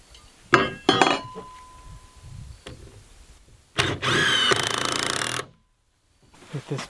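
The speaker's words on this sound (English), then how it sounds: "Now I'll put this together with 3-inch screws." A drill drives 3-inch screws into timber in a workshop window-wall build, with short bursts, then a longer loud whirring run of about a second and a half, separated by quiet pauses and light clinks.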